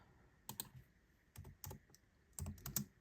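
Computer keyboard keys tapped in short bursts of a few quick strokes separated by pauses, close and fairly quiet against a low room hiss, with no voice.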